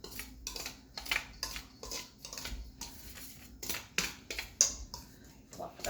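A whisk beats a mixture in a bowl with a steady run of quick, repeated clinking strokes against the side, close and fairly quiet, with no talk over it.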